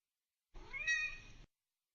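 A single cat meows once, short and clear, with about a second of sound standing alone between silences.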